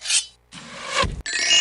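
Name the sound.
saw cutting, from a video game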